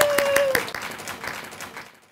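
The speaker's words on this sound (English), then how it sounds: "And another round of applause for the transportation drivers" Applause for transportation drivers at a county celebration for residents in their nineties, a modest round of clapping with a few sharp claps up front that thins and fades out by the end.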